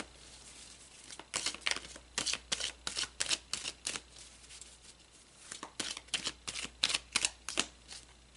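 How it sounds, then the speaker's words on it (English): Tarot cards are shuffled and pulled by hand, a run of crisp, close riffling and slapping bursts in an uneven rhythm with short pauses, alone without any talk. "let's pull some more cards about the contract between the two of you"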